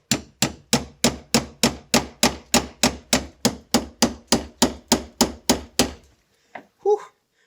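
A hammer repeatedly strikes a Vessel Impacta impact screwdriver to free a stubborn screw, giving about eighteen sharp, evenly spaced metallic knocks close by, then a pause and a couple of faint trailing sounds.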